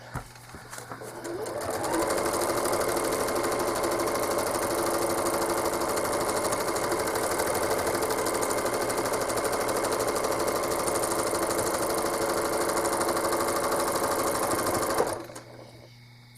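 A home sewing machine stitches a quilt in one steady, loud, continuous run of rapid needle clatter and motor hum lasting about thirteen seconds before stopping abruptly, with no talking.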